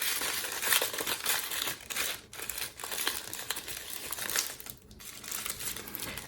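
Tissue paper flower petals being lifted and gently torn, a steady close crinkling and soft ripping that runs throughout, with no talking.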